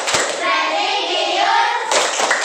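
Schoolchildren at an Indonesian elementary school perform the PPK clapping chant: a sharp clap opens, voices chant together, then another burst of claps follows.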